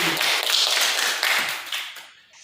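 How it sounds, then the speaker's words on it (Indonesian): Classroom applause from students, a short burst of brisk clapping that fades out over about two seconds, fairly faint and with no talk over it. "Iya, tepuk tangan."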